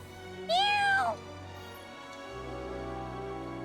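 A cat meows once in the video game Duet Night Abyss, a single clear, upward-then-falling call close by with a faint ambient background and no talking.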